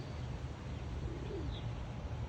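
Pigeons coo faintly in a loft setting, soft low murmuring calls with a brief higher chirp, under a steady background hiss.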